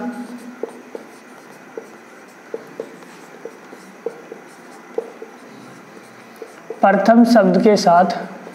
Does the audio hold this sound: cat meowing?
no